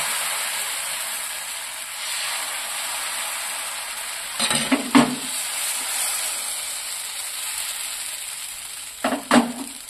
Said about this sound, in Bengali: প্রত্যেকটাকেই ঘি দিয়েই ভাজতে হবে।